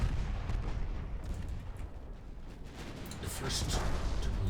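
A naval battle in Ultimate Admiral Dreadnoughts, with a torpedo striking an enemy ship: heavy low rumbling booms and crackling blasts roll continuously, building toward the end, with a voice speaking over the din.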